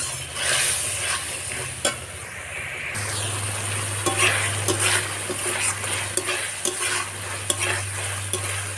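Spice paste (masala) being stirred and sautéed with a little water in a pan for a prawn and pointed gourd curry, giving a steady sizzle with scraping spatula strokes and a low background hum, no talking.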